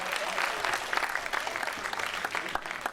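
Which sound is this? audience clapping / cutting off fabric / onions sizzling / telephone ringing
audience clapping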